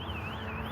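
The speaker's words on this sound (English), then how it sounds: "What the fuck is that alarm going off for?" An electronic alarm wails continuously with a steady rising-and-falling warble, loud and close, with no other sound over it.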